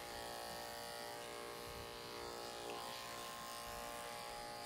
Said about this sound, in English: I want to make sure to turn my clipper on first before I snap the blade shut